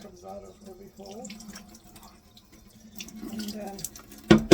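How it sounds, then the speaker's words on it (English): Water runs through the small holes of a dishwasher spray arm during a deep clean, a steady faucet-like stream that grows louder and splashier toward the end, over a low humming tone. "and make sure the water comes out of every hole"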